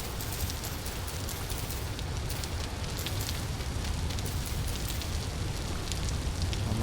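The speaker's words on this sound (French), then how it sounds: "Il pleut à torrent. J'espère que le bruit de la pluie n'est pas trop chiant." Torrential rain pouring down in the survival video game Vintage Story, a dense, steady hiss of heavy downpour with pattering drops throughout, loud and unbroken with no voices.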